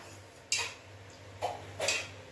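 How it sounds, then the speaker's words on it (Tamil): A cooking pan set down on a stove before oil goes in, three light metallic clinks and knocks spaced out over a quiet background hum, close by and with no talk. "பாத்திரத்தை பற்ற வச்சுட்டு எண்ணெய் ஊற்றிக்கலாம்"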